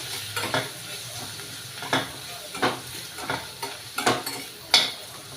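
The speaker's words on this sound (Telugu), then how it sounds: "ఒక నిమిషం పాటు ఇలా వేయించుకొని" Bitter gourd curry base of chili powder and salt being stirred and fried in a pan, with steady sizzling under repeated scraping strokes of a spoon, close and moderately loud, no voices.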